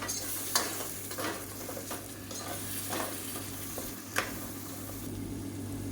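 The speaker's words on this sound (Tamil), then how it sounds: "சேர்த்துட்டு நல்லா எண்ணெய் பிரிஞ்சு வர அளவுக்கு நல்லா வதக்கி விட்டுக்கலாம்" Tomatoes sizzle and fry in hot oil while a spoon scrapes and stirs them a few times, a steady crackle close by.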